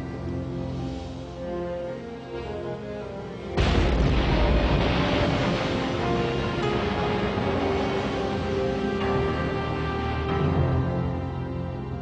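A sudden loud boom erupts, followed by a long rumbling roar of continuing blasts and heavy gunfire that slowly fades, as a Gato-class submarine's deck cannon and torpedoes attack a Dutch submarine.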